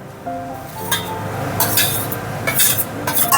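Boiled mung dal goes into a pan of fried greens, with metal spoon clinks and scrapes against the pan, a few close, bright knocks and a soft wet shuffle, no talk.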